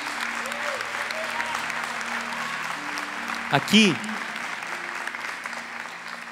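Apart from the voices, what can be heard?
audience applause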